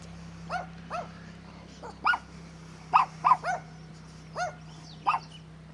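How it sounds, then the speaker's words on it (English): A dog barks repeatedly while chasing a side-by-side utility vehicle outdoors, sharp mid-distance woofs in an irregular series over a steady low engine hum. "The dog's chasing someone on a side-by-side, wanting a ride."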